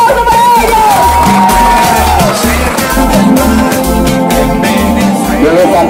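Dense, loud crowd noise from an audience at a youth gathering in Santa Catalina, with cheering, whoops and shouts over a steady rhythmic beat of music throughout.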